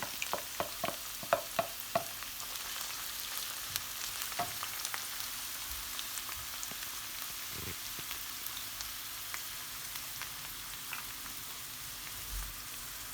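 Peppers fry in a pan for menemen, a soft, continuous sizzle with a few sharp clinks and stirring knocks early on, close and without talking.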